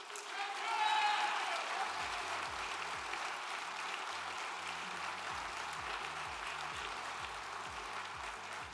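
A banquet audience claps in sustained applause, a dense, even patter of many hands that carries on for several seconds with some voices mixed in.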